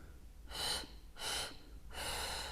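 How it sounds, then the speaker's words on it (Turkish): Three bursts of forceful breath come in a row during a birth breathing exercise, each a long breathy rush separated by short quiet pauses, close and clear with no talking. "uzun nefesler, uzun nefes alıp kısa kısa vermeler"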